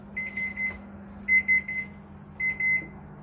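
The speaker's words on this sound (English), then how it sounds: "So the timer just went off." An oven timer sounds in three clusters of short, bright electronic beeps with pauses between them, clear against a faint low hum in a kitchen.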